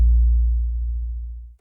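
Deep 808 bass note from an FL Studio beat, a single sustained low tone that slides down in pitch and fades steadily to silence, heard alone.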